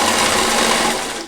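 A Koyo sewing machine stitches in a fast, steady whir at a stitch length of 3, close and loud throughout a short burst with no talk.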